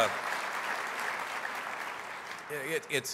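Broad, steady audience applause during a mayor's State of the City address in Oklahoma City, filling most of the moment before a voice resumes speaking at the end.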